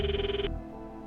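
A phone ringtone while calling Maho in the Steins;Gate 0 video game, a steady electronic ring tone that stops after half a second and leaves a low hum.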